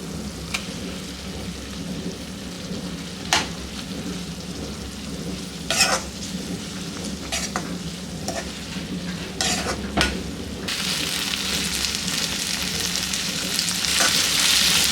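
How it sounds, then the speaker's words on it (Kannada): Three finely chopped tomatoes fry in a pan on the stove, giving a continuous close sizzle with repeated sharp scraping stirs, and the frying swells louder near the end. "ಟೊಮೆಟೊ ಫುಲ್ಲು ಫ್ರೈ ಆಗಬೇಕು."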